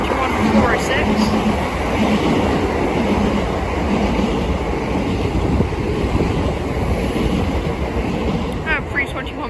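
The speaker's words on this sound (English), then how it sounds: "here are some Greater Anglia Class 321, 321 406." Greater Anglia Class 321 electric trains passing at Bethnal Green, a loud continuous rumble and rail roar filling the whole stretch, with faint clicks and a voice briefly heard underneath.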